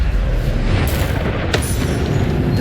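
A Bombarda spell explosion in the video game Hogwarts Legacy sounds as a loud, dense boom with a rumbling low body, and a sharp crack partway through rises over the sustained roar.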